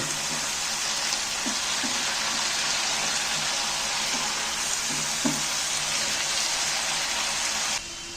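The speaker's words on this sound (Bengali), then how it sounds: "ভালো করে কষিয়ে নেবো ফের মশলাটাকে আরেকবার ভেজে নেব" Spice masala with turmeric and salt being fried in a pan, a steady close hiss of sizzling oil throughout, punctuated by a few soft scraping stirs; no talking.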